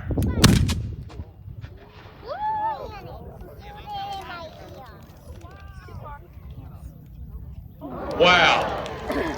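At a Civil War reenactment at Gettysburg, a loud mortar blast booms close by at the start, then comes a second thud near the end. Spectators talk and someone speaks in between.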